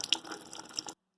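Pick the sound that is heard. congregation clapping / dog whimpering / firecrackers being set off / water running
water running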